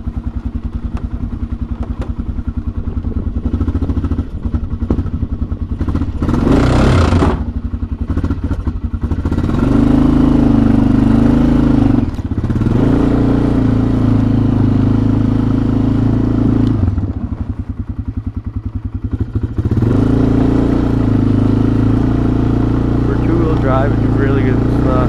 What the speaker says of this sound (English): Alright, I'm gonna take it for a quick test drive